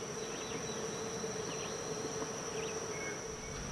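Honeybees from a hive buzz in a steady, close drone with a few louder passing wingbeats and no talk.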